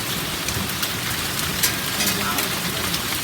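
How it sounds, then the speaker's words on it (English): Heavy rain mixed with hail pelting down outdoors, a dense, steady roar of drops and ice striking surfaces with a few sharper impacts, loud and continuous throughout. "Not only it's rain, but there's also hail."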